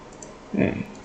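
A single close, soft computer mouse click sounds once in a quiet room while contract text is being copied and pasted.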